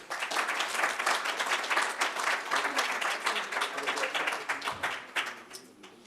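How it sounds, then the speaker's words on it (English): Audience applause for a speaker at a library book event, lively irregular clapping of a modest crowd that stays strong for several seconds and then thins and fades toward the end. "a warm round of applause for Ted"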